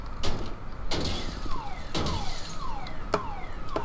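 A car alarm goes off in GTA V with repeated sweeping siren-like whoops, each about a second apart. It sounds loud and close and carries on without a break.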